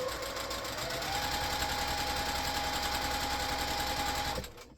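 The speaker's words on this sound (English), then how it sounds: "we're going to sew on each side of the drawn line, 1/4 inch away" A sewing machine stitches pieced quilt fabric a quarter inch from a drawn line, a fast steady mechanical whir running nearly five seconds before stopping abruptly.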